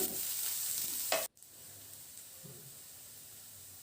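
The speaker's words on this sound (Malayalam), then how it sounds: "ഇനി വെളിച്ചെണ്ണ നന്നായി ചൂടായി വരുമ്പോൾ ഇതിലോട്ട് നമ്മൾ എടുത്ത് വെച്ചേക്കുന്ന സവാള ഇട്ട് കൊടുക്കുക" Chopped onion, half a medium onion, hits hot coconut oil with a bright sizzling hiss that cuts off abruptly after about a second, followed by a softer, quieter frying crackle.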